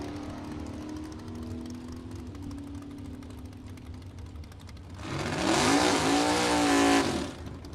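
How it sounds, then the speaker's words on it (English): A 1968 Chevelle with a 502 engine launches on a drag strip, its engine rising from a steady idle rumble to a loud, near roar that sweeps upward through the gears before easing off at the end. "Single pass coming up. That's Tom Hickey, 68 Chevelle, 502 under the hood."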